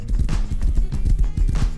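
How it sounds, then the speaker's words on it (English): Horse hooves in the game Rust beat out a fast, close, rhythmic gallop, loud and continuous across the short stretch. "There's a horse coming up, North 10."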